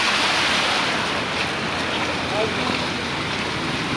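Strong floodwater current rushing through a flooded residential neighbourhood, a dense, continuous loud wash of water with wind buffeting the microphone and no pauses.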